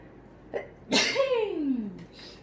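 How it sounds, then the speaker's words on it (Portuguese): A single human sneeze from a woman: a short catch of breath, then a sharp explosive burst trailing into a falling voiced tail, loud and close, alone in a quiet room. "Ai, eu quero espirrar."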